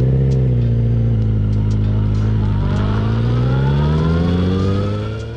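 Suzuki GSF1250S Bandit motorcycle with a Yoshimura exhaust, a deep steady engine note holding close and loud, rising slightly in pitch mid-way before easing off at the end.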